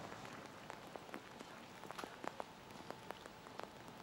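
Rain pattering steadily at an outdoor recurve archery quarterfinal, a continuous hiss with scattered sharper drop taps throughout, no voices.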